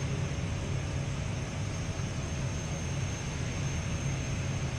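Loud, steady private jet engine roar during takeoff acceleration, a continuous broadband rush with a low rumble underneath, holding at constant intensity throughout.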